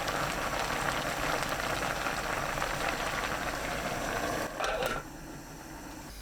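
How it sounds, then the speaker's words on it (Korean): Braised mackerel with garlic scapes and chili boiling in a covered pot over high heat, a steady dense bubbling and rattling hiss that drops to a quieter simmer near the end. "위에 고추 올리고 뚜껑 닫아 센 불로 끓입니다"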